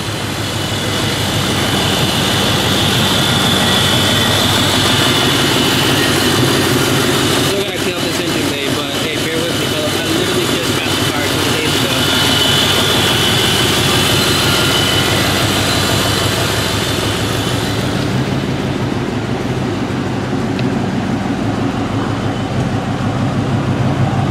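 A deep, growling V8 engine rumble from a 2004 Ford Mustang GT runs steadily throughout, loud and close, briefly shifting in tone midway before settling into a lower idle near the end.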